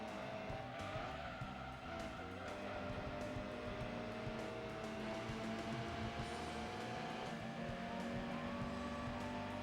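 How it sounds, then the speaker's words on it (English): Racing car engines in Gran Turismo 2 on PS1 drone and whine continuously, with overlapping engine tones rising and falling at steady volume and no talking. "I can hear the other cars right behind me."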